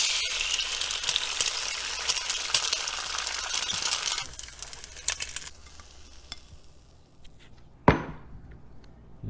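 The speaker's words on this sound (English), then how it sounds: "And next is a fried egg." An egg fries in a pan beside smoked bologna, first in a loud, dense crackling sizzle that then drops to a quieter fizz, with one sharp clack near the end and no speech.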